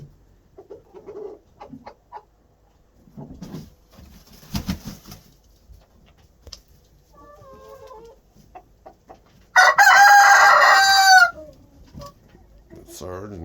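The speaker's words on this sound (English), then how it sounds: "Watch Ernie crow. He's pretty cool" A backyard rooster crows loudly once, a long strained call that stands out after a stretch of quieter clucking, soft chicken noises and faint talk, with snow from the first storm of the year on the ground.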